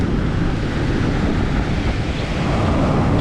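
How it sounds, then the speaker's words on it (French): Strong wind buffeting a microphone outdoors on Tenerife, a dense, continuous low roar that holds steady without any pauses and with no voice heard. "J'espère qu'on m'entendra bien parce qu'il y a assez de vent quand même."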